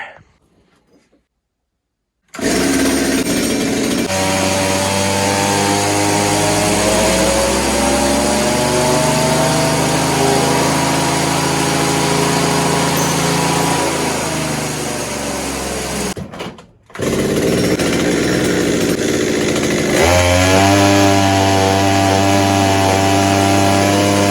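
A Stihl 200T clone climbing chainsaw runs loud and close, its small two-stroke engine revving hard for a long steady pull, with a brief cut and restart before climbing again at high revs.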